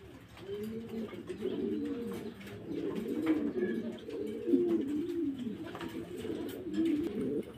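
Domestic pigeons coo repeatedly in a pen, with close, throaty rolling calls overlapping in an uneven rhythm and soft background noise beneath.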